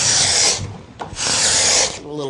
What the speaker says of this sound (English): You drag the teeth across the core and put some scratches in there.